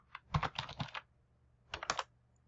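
Someone types a command at a Windows computer keyboard: two quick bursts of crisp key clicks, close and quiet, separated by a short pause, with no talking.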